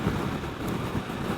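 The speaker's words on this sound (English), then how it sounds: "Oh, it's windy." Steady wind buffets the microphone during a small-motorcycle ride along the Central California coast, a constant low roar with no speech.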